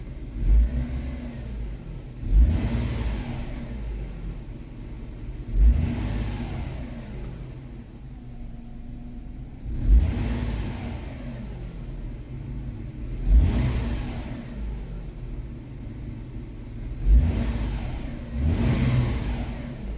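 A Kia Sportage 2.7 engine runs rough with a misfire, its low rumble surging in repeated swells every few seconds, close and steady with no voices.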